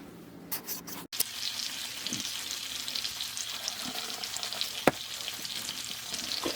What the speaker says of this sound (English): And the bacon's just cooking away.